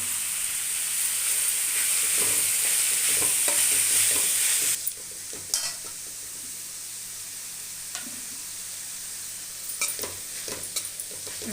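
Vegetables with salt are stir-fried for fried rice, opening with a loud, bright sizzle that drops off sharply partway through, followed by scattered scraping and stirring knocks against the pan.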